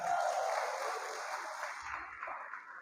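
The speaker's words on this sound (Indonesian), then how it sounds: "Oke, tepuk tangan untuk mereka." Church congregation applauding, a diffuse, moderately quiet wash of many hands clapping that gradually thins out, with faint low voices underneath.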